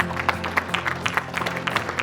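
Audience applause at an awards ceremony, a short burst of scattered clapping heard at moderate distance with a low steady hum underneath.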